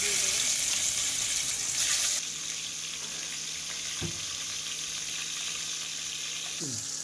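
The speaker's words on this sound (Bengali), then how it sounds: "তার তেলটা গরম হয়ে গেছে মাছগুলো দিয়ে দেবো" Salted kalbaush fish pieces fry in hot oil, with a loud burst of sizzling at first that settles into a quieter, steady hiss with a couple of brief clinks.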